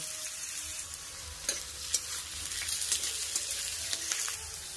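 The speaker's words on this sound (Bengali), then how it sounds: "তেল গরম হয়ে গেলে আলুগুলোকে দিয়ে দেব।" Potatoes fry in hot mustard oil in a kadai, a continuous crackling sizzle with a few sharper pops and spatters, close and without speech.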